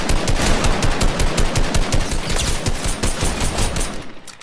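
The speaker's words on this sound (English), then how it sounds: "Shoot him out in the air." Rapid automatic gunfire in the video game Fortnite, a loud continuous burst of rhythmic shots that trails off at the end, with no talk.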